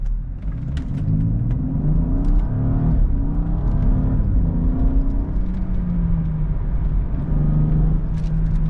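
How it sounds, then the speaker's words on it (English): A BMW with the N55 turbocharged straight-six pulls hard under acceleration, its engine note climbing and shifting through steady rising harmonics, loud and close from inside the car with no talking. "Hopefully you guys can hear that engine"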